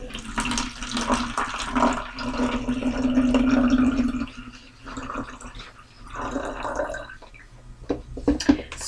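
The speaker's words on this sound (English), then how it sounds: "Fill it up in your plastic bottle." Cold water glugs and splashes into a plastic bottle in uneven bursts, the gurgling pitch shifting as it fills, with a brief pause midway.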